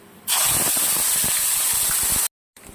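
Spices and an onion, ginger and cashew paste for egg curry hit hot oil in a pan, a sudden loud hissing sizzle that holds steady for about two seconds, then cuts off abruptly.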